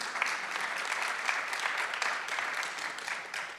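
Applause from an audience at a conference session on Indigenous shamanism and psychedelic science, steady and sustained for the whole stretch, moderately loud with no voices over it.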